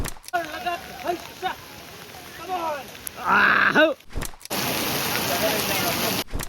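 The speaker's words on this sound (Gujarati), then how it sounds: "કન્ટિન્યુ એટલે કન્ટિન્યુ વરસાદ શરૂ હોય" Steady rain hiss fills the scene at Saputara hill station, with a person talking over it before the downpour noise dominates alone.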